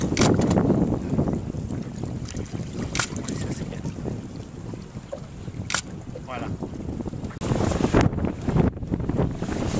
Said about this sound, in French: le vent nous y amène tranquillement